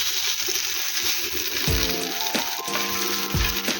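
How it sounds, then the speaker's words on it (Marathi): Kokan-style halwa fish fries in a hot pan with little oil, giving a steady, bright sizzle broken by a few sharp scrapes and clatters as the pieces are turned and stirred. "आता गॅस फास्ट करा आणि मच्छीला परतून घ्या."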